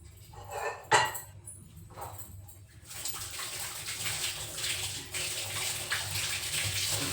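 Water runs steadily from a tap as hands are washed at a sink, a soft splashing rush that starts faint and grows fuller and louder after a brief thump, with no voices.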